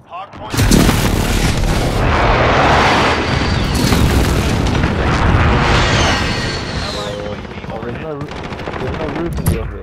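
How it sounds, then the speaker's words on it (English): Video game precision airstrike: heavy, rumbling explosions and booms over rattling machine-gun fire, loud and continuous for several seconds before tapering, with voices in the background. "Precision airstrike"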